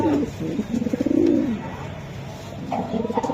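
Racing pigeons cooing close by, low throaty rolling coos repeating over a soft background murmur.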